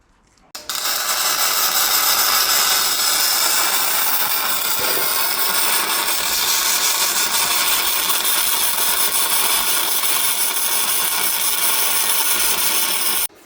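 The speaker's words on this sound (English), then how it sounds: "Do you reckon we're going to be able to MIG 6mm plate?" MIG welding on 6mm steel plate gives a loud, continuous crackling hiss. After a short quiet lead-in it runs unbroken for about twelve seconds, close up and steady, with no talking.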